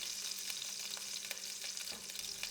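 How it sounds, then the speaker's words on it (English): Pork chops sizzle steadily in a hot prepared pan, a dense, even crackle of frying with small pops scattered throughout and no voices. "And we're getting our pork chops into our prepared pan."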